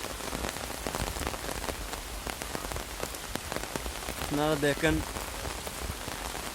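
Steady rain pours down in a dense, hissing patter in Cox's Bazar, Bangladesh, with a voice speaking briefly near the end.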